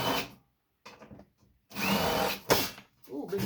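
A power drill backs screws out of a fax machine being scrapped, with several short bursts of motor whine separated by silent gaps and a louder, longer run in the middle.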